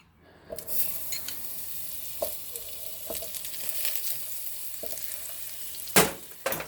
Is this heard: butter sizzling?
yes